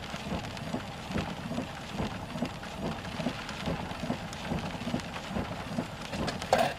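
Rain and hail falling during a severe storm near Hammon, Oklahoma, a dense, steady patter with faint low rumbles running the whole time.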